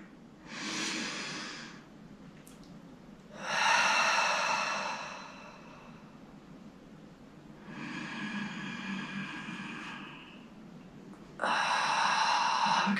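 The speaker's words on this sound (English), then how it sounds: "A few deep breaths." Slow, deep breaths, four long airy inhales and exhales spaced a few seconds apart, close and clear against a quiet background.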